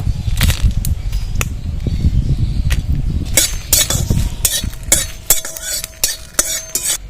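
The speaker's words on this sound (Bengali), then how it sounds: "এবার শুকনো লঙ্কাগুলো আগে কড়াইতে দিয়ে দেবো" Dried chillies rattle and scrape in a metal wok as they dry-roast, with sharp clinks of a utensil stirring and tapping the pan.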